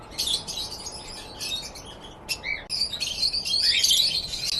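Many budgies and parrots at a cafe in Leeds chirp and squawk together in a dense, constant chatter, growing louder and busier toward the end.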